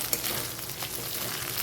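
Hilsa fish heads sizzle in hot oil in a pan, a continuous nearby crackle with a sharp pop near the start and light spatula scrapes as they are stirred.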